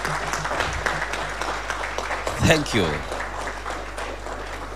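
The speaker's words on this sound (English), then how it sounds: "Thank you very much, Prof. Another round of applause," An audience at a governance workshop applauds a professor, steady claps running throughout while someone briefly speaks over them, a low mains hum beneath.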